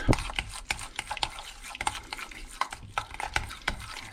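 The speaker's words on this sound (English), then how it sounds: "Stir that all up." A mixture of yogurt and wild garlic cheese stirred in a bowl, with quick irregular clicks and soft scrapes of a utensil repeating throughout, close and fairly quiet.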